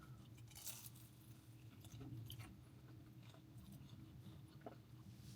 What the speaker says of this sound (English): Still chewing the chicken.